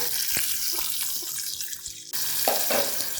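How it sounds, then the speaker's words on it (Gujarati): A short pour of about a spoonful of water splashes into a pan of frying onion, ginger and garlic and quickly turns into a brief hiss. "થોડું પાણી એડ કરીએ છે"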